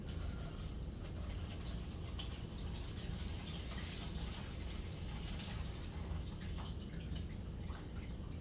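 Excess juice from hot sauce ingredients is poured off into a jar, giving a quiet, continuous dribbling and splashing of liquid with soft drips and no voices.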